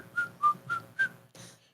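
A person whistles a short tune of four clear, evenly spaced notes followed by a breathier fifth, close and alone.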